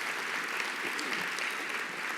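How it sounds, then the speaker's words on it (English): Audience applause at a 2018 National Philanthropy Day gathering in Orange County, California: a steady, dense clapping from a crowd filling the room throughout, without voices. "I just want to please give her a round of applause."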